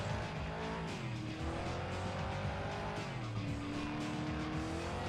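A game car's engine drones and revs continuously for a long-jump launch, with a steady roar and rising, falling pitch, loud and close with no talking.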